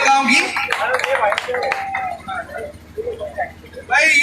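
A crowd at a village party event in Khutan gives a round of clapping, scattered hand claps rising and thinning under a man's amplified speech, with a fresh burst of applause at the end.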